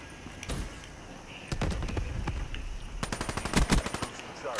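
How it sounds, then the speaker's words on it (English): Gunfire in Black Ops 3 multiplayer: rapid automatic bursts in two clusters, one early and a louder, denser one later, crackling against background game noise. "Somebody shooting at me"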